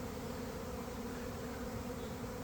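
Honeybees at an apiary give off a steady, continuous buzz, a dense drone holding even for the whole stretch with no voices over it.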